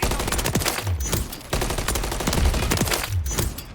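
Dense, continuous automatic gunfire and explosions from Call of Duty: Modern Warfare 3 multiplayer, loud and steady throughout with overlapping bursts and occasional heavier thumps.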